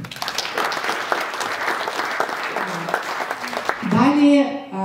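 An audience at a school olympiad opening ceremony claps steadily throughout, a dense patter of hands that grows slightly louder near the end as a voice begins speaking over it.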